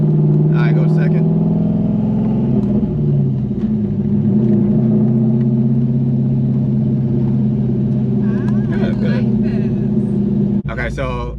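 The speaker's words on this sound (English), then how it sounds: "the reason why it's jerking like that is because you're coming out the clutch too fast and not giving it enough gas" A cammed Corvette with a manual transmission rumbles in a low, loud, continuous drone with uneven surges as the clutch is let out too fast, heard from inside the car while people talk over it.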